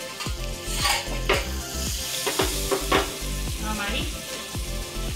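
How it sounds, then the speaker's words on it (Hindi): Half-cooked chapatis roast on a hot pan in butter and a little oil, a constant close sizzle broken by repeated clanks and scrapes of a metal spatula against the pan, with no voices. "जो हमने आधी आधी चपाती सेकी थी मैं देखी उनको थोड़ा सा बटर डाल के अच्छे से दोनों तरफ से सेक लें।"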